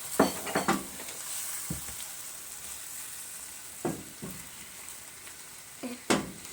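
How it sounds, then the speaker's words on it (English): Matzah brei frying in a pan, a continuous close sizzle broken by several short scrapes and taps of a utensil stirring, no talking. "as soon as it hits the pan, you want to go ahead and stir it up so it doesn't stick"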